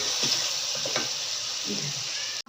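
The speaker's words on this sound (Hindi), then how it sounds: "इसको डालकर अच्छी तरह से भून लेते हैं मसालों को" Spices for chicken white karahi are fried in a pan with a continuous close sizzle and soft stirring scrapes, heard alone and cutting off abruptly at the end.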